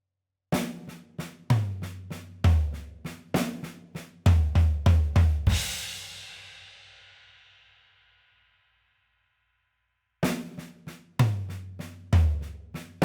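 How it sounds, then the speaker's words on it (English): Drum fill on a kit closing with four accented floor tom hits, the last one ringing out into a long decaying crash before the pattern starts again; loud, punchy strokes in quick rhythmic groups, with no talking. "So we could perhaps play all 4 of those accents at the end on the floor tom as well."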